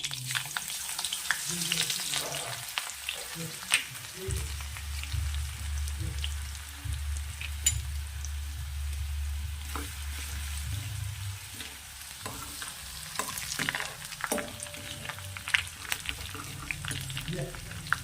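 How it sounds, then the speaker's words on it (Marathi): Mustard seeds hit hot oil in a pan and sizzle with a steady hiss and scattered pops and crackles, moderately close and fairly faint, with some clatter and light talk. "हा तापला आहे मोहरी ॲड करत आहे"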